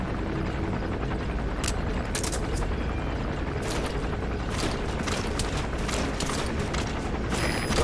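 Arms dealer's helicopter flying in Metal Gear Solid V: The Phantom Pain, a steady rotor thrum throughout with sharp intermittent clicks and cracks layered on top.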